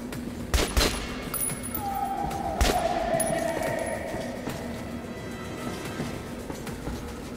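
Gunfire in the video game Metro: Last Light: a few sharp, separated shots ring out near the start and again a couple of seconds later, followed by a whistling sweep over steady in-game ambience, with no talk.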